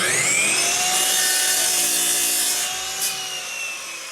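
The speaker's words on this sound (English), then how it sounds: "lowers the handle on a chop saw to trim a piece of wood" A power chop saw slices through a piece of wood in one sustained, loud whining cut that tapers off near the end, close and with no voices.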